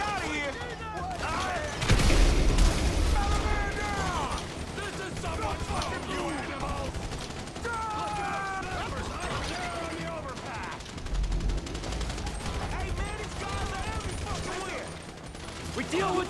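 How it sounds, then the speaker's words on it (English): GTA 5 gunfire bursts loudly and repeatedly in a shootout, strongest near the start and again midway. Excited players shout and talk over much of it. "So I guess we should... shooting our way out of here."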